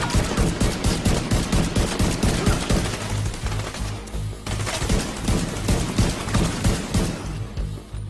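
Gunfire in The Division 2 video game rattles in rapid, dense bursts of automatic shots, loud and nearly continuous with a short lull in the middle before the firing picks up again.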